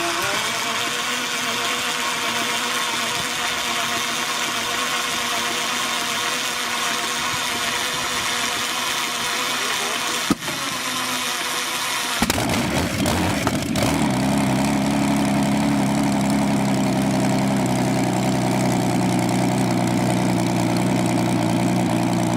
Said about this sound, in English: This video shows the Rolls-Royce Meteor engine is separate from the tank.